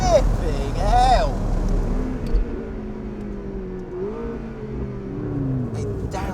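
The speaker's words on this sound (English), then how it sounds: "It downshifts beautifully as well." A McLaren 650S Spider engine blips and drops through downshifts, short rising revs followed by a lower steady drone, close and loud, with a few sharp pops between gear changes.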